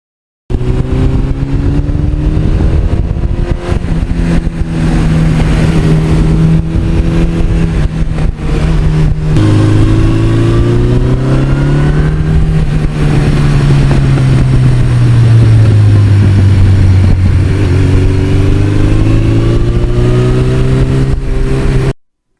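A 1982 Suzuki GS1100E motorcycle engine roars continuously while riding, loud and close, with pitch rising and falling through repeated revving and gear changes over wind noise.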